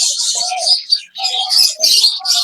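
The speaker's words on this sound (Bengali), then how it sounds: "কি সুন্দর একটা পাখি এটা!" Birds chirp and coo at Khulna Bonbilash zoo, a loud cluster of bright, overlapping calls and tweets in quick bursts, close by, with no talk.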